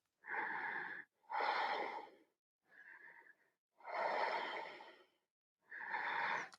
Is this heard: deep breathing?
yes